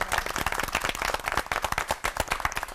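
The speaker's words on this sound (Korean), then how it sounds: "박수 부탁드립니다" A small audience claps in a quick, dense burst of individual hand claps, fairly close and without talk.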